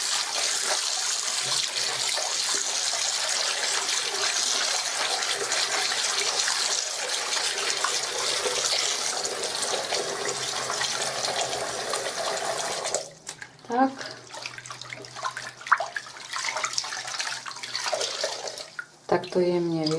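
A hand-painted silk scarf is rinsed under lukewarm running tap water, a steady gushing stream for most of the stretch, then it stops, leaving softer sloshes, drips and a voice speaking.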